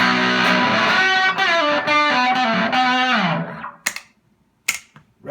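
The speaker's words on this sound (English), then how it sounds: "Switching into the second setting, which is pretty heavy distortion," An electric guitar rings through an effects pedal set to heavy distortion, thick sustained chords played loud and alone, then cut off, followed by a few sharp scrapes and clicks.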